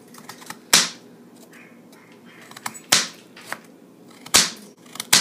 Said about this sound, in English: You're just going to keep cutting carrot